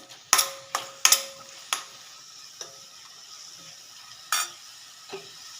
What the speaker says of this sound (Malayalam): നാല് പച്ചമുളക് ഒരു കഷ്ണ ഇഞ്ചി കുറച്ച് വെളുത്തുള്ളി ഒന്ന് വഴറ്റിയെടുക്കാം